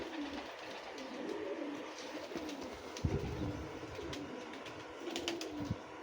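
Teddy breed pigeons cooing softly in a loft, low repeated coos rising faintly over a steady background hum, with a slightly louder call or flutter near the middle and end.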